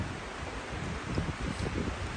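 Strong storm wind tears through trees, with a steady rushing roar, gusting surges and thrashing leaves close by, loud and continuous throughout.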